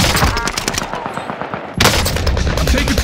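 Automatic gunfire in Call of Duty Modern Warfare on Rebirth Island: loud, continuous rapid bursts of shots, a brief dip in intensity midway before a renewed heavy burst.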